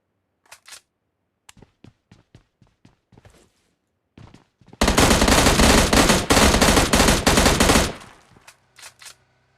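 M16 rifle gunfire in PUBG Mobile Lite: a long sustained automatic burst of loud rapid shots, framed by scattered single clicks and taps before and after.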